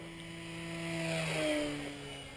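A red Nitroplanes 800mm T-28 radio-controlled plane with a bigger prop makes a low flyby, its small motor whine rising in pitch as it approaches and dropping as it passes, heard at a distance with steady background noise.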